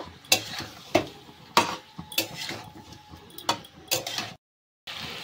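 Chopped onions fry in a pan on a burning stove, a steady sizzle broken by about eight sharp scrapes and knocks of a spoon stirring against the pan, close and clear, then a brief silence.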